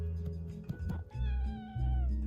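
A cat meows a few times at close range, drawn-out tonal cries rising over a steady low hum in a quiet room, with no talking.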